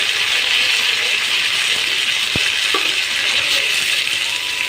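Mustard seeds and curry leaves fry in hot oil with a loud, dense, steady sizzle, broken by a single sharp clink partway through and a softer tap just after.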